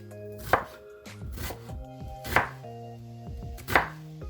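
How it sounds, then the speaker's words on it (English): A knife chops an onion into small cubes on a cutting board in a home kitchen, landing three distinct loud, sharp thuds spaced about 1.5 seconds apart, with quieter tapping and clatter in between and no talking. "You're going to cut slits into the onion so that when you cut lengthwise, you actually end up making really nice small cuts."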